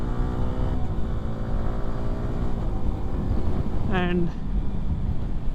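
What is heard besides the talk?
Yamaha R15M motorcycle accelerating hard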